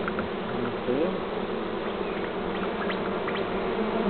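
Bees buzz steadily and close by, a dense droning hum with individual insects rising and falling in pitch, no talking.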